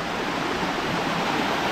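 Rushing water of Gabur Gabur waterfall in Peñablanca, Cagayan, a steady, loud, broadband roar that fills the short stretch without a break or any voices.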